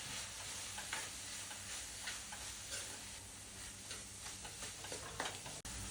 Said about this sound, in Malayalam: എന്നിട്ട് ഉള്ളിയും ഞണ്ടും എല്ലാം കൂടെ വെന്ത് വരുന്നതിലേക്ക് ഈ തേങ്ങാ മിക്സും കൂടി ഇട്ട് ഒന്ന് മിക്സ് ചെയ്തെടുക്കും.